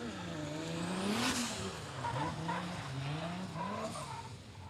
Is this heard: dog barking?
no